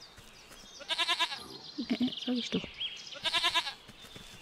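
A goat bleats in the video game Force of Nature, two loud, nasal, quavering calls up close, one early and one near the end, with a voice talking between them.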